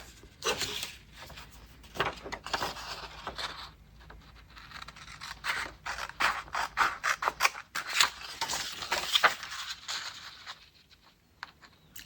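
Scissors snipping through paper ephemera for a junk journal, a run of short crisp cuts and rustles close to the mic, uneven in rhythm, with brief pauses between bursts.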